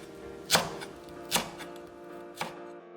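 Kitchen knife chopping a small green onion (daepa) into 0.5 cm slices on a cutting board while making bacon kimchi stew, three separate sharp chops spaced about a second apart, close and clear with no talking.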